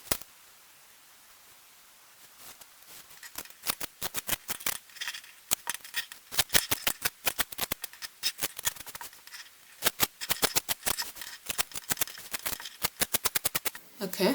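Scissors cutting out dress fabric for a fit-and-flare midi dress, a rapid series of crisp close snips in irregular bursts after a quiet start.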